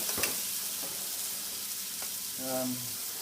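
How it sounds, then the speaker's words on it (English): Food with lemon fries in coconut oil, a steady close sizzle and crackle throughout with a few scraping stirs and a faint murmur in the background. "we're just going to cook this off in coconut oil"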